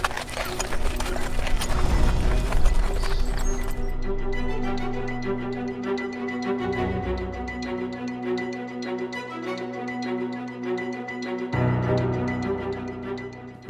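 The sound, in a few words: Shire horse hooves clip-clopping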